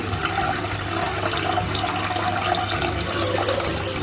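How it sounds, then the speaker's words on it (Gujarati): Steady running water pours and splashes close by for several seconds, like a tap filling a bowl, as homemade butter is washed; no voices. "આપણે 2 થી 3 પાણીથી માખણને વોશ કરવાનું છે."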